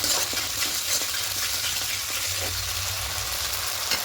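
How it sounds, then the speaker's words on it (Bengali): Rohu fish in yogurt being stir-fried in oil until the oil separates, giving a continuous crackling sizzle with scattered light scrapes and taps of a spatula against the pan. "এবার টক দই দিয়ে খুব ভালো করে আরেকটু কষিয়ে নেব"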